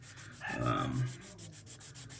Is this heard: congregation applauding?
no